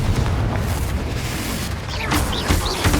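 Confringo spell explosion in Hogwarts Legacy, a loud sustained low booming rumble with several sharper bursts and crackles toward the end amid busy combat noise.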